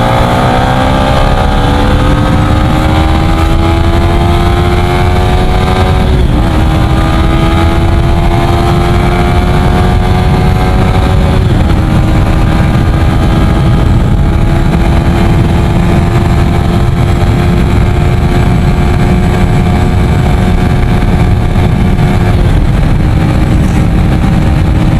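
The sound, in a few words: Yamaha Sniper 155 motorcycle engine at top speed, 14T/48T sprockets, stock ECU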